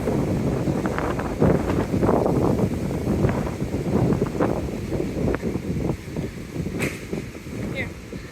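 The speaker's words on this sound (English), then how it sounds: "it got even windier down here" Strong wind buffets the microphone on Daytona Beach, a dense, continuous roar with gusting surges throughout, loud and close.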